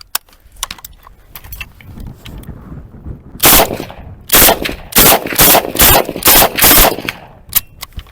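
A Ukrainian Vulkan assault rifle empties a full magazine: scattered lighter clicks and handling noise give way to loud, close, rapid bursts of shots with short pauses between them.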